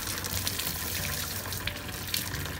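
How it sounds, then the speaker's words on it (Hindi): Dettol-mixed water poured slowly from a mug over a Doberman during a bath, a steady soft splashing trickle with faint drips, heard close and alone throughout. "धीरे धीरे डालेंगे ताकि पानी वेस्ट ना हो, उसके स्किन में जाए, बिल्कुल धीरे धीरे."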